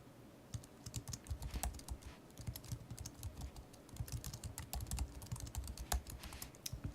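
Quiet, rapid keystrokes on a computer keyboard patter irregularly and continuously, close by with no voices.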